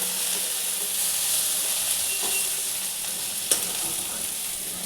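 Onions fried in a pan, with poppy seeds added for an onion-poppy seed dish, hiss with a steady, loud sizzle that runs without a break, plus one brief sharp crackle near the end and no voices.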